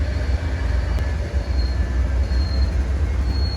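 The Amtrak Lake Shore Limited, train 449, pulls out as heard from inside a Viewliner II roomette, a loud continuous low rumble of rolling wheels with faint squeals over the steady drone.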